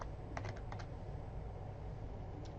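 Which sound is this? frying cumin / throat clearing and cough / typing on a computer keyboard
typing on a computer keyboard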